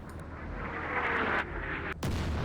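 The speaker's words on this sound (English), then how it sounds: "I just walk out and then the mortars fire me again because I've been spotted" Mortar fire in a video game: a dense, sustained rumbling blast spread across the clip, cut briefly before a second heavy boom bursts in near the end, loud and close with no talk.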